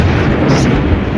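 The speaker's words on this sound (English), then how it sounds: "That lightning just shook the entire house." A thunderclap from lightning during a blizzard, heard from inside a house as a loud, dense rumbling roar that fills the whole short moment.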